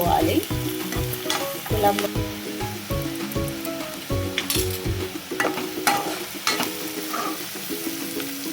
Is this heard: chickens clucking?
no